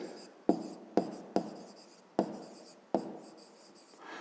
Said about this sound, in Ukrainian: Ну, а зараз записуємо відповідь.